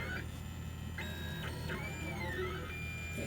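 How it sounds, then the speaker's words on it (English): A 3D printer works steadily, its stepper motors whining in shifting electronic tones that rise, fall and glide like chirpy beeps over a constant low mechanical hum, heard up close from behind the machine. "the printer is officially at work, doing its job"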